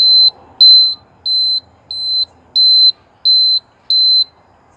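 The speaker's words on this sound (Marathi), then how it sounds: "आणि हे इंडिकेटर्स," The turn indicator buzzer on a Bajaj M80 moped beeps seven times in an even rhythm. Each beep is a sharp, loud electronic tone with short silences between them and no talking.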